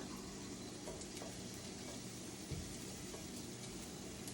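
A steady, even sizzle of garlic frying in a pan hisses throughout, continuous and fairly faint, with no voices.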